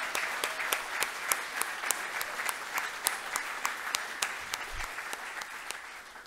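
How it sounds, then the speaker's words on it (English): Applause from an audience at a champion reception, thanking the diamond sponsors, steady and fairly sparse, with distinct individual claps standing out across the whole stretch. "can we say a massive round of applause and thank you for these diamond sponsors."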